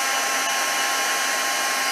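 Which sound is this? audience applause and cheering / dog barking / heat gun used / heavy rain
heat gun used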